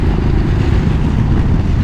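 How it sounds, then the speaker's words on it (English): Royal Enfield Continental GT motorcycle engine cruising at road speed, a steady, loud low-pitched drone with a continuous throb and no strain, running without a break and with no voices. "engine doesn't seem to be trying hard, it doesn't seem to be working hard at all"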